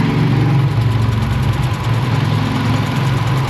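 A car engine idles with the purge valve vacuum hose pulled off, a loud, steady low rumble with a faint rhythmic pulse, close by and without talk.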